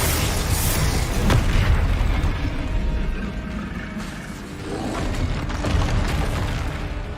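A Confringo fire spell in Hogwarts Legacy detonates in a dense, loud, sustained boom with crackling bursts and rumble lasting throughout, with no one speaking.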